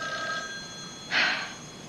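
A telephone rings indoors at night, one short, faint bell burst in the middle of a quiet room with a steady background hum, then it stops, with no talking.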